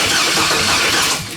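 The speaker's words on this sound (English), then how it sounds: "let's tickle the starter here and see if we see RPM on the Holley" A 2500 turbo truck engine cranks on the starter in a loud, steady whirring churn close by, fading slightly at the end without firing.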